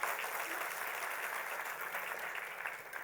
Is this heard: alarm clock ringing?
no